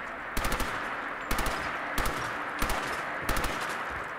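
Sterling submachine gun fired in Fallout 4, five short bursts of rapid automatic shots at roughly even intervals, loud and close with brief pauses between each burst.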